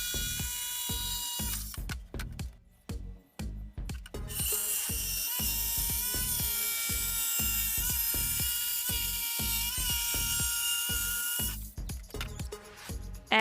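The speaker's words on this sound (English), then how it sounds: "you can use something just like a jigsaw like I did" A jigsaw cuts plywood in rapid rhythmic strokes, pausing briefly and resuming loudly; a harsh, buzzing mechanical rasp close up with no talking.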